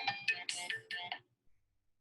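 A phone ringtone plays a short, bright melodic burst of tones, loud and close, for about a second before cutting off into near silence.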